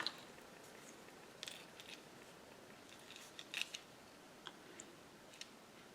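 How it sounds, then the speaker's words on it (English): Scissors snipping through a craft paper tag to trim it to size, a few faint, quiet clicks and cuts scattered irregularly over several seconds in a near-silent room. "So let me just cut this down."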